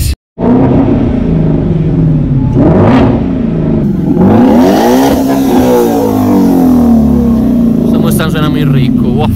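A BMW engine revs hard on a mountain climb drive, a loud rising and falling roar that surges twice, heard from inside the car with people talking over it.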